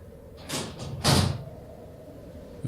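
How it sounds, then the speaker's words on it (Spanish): A door closes behind someone walking to catch a late bus: a soft thud followed by a louder, fuller bang about half a second later, then quiet room tone. "Escuché una puerta detrás de mí"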